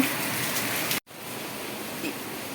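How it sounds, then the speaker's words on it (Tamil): Heavy morning rain in a village, a steady loud hiss of downpour on surfaces throughout, broken by one brief cut, with no voices. "வீடியோவில் என்ன சத்தம் வருதுன்னு பார்க்காதீங்க. எங்கள் ஊரில் காலையிலேருந்து சரியான மழை."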